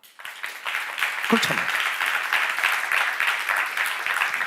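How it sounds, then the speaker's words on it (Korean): A church congregation breaks into sustained applause that swells after a brief spoken word and keeps clapping steadily until the end. "박수 한번 쳐봐."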